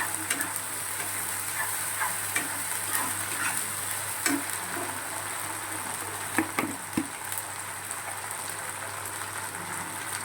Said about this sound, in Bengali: মশলাটা অনেকটাই ভাজা ভাজা হয়ে গিয়েছে, সামান্য একটু জল দিয়ে দিলাম, তাতে একটু মশলাটা একটু ভালো কষানো হবে।